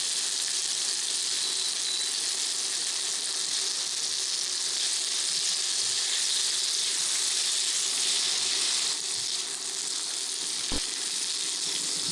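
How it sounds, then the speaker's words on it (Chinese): Eggplant pan-fries in a hot oiled wok, giving a loud, continuous bright sizzle that holds steady throughout, with one brief click near the end. "先别急着翻炒， 就是让它稍微煎一下外皮的这个淀粉成型了以后，再来翻炒"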